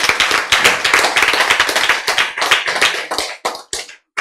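An audience claps at a Bible lecture. The dense, close burst of applause thins into scattered claps and stops after about four seconds.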